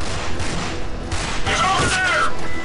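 Gunfire in the video game Rage, scattered sharp shots and bursts in a short stretch of combat, mixed with game effects and a voice talking over it.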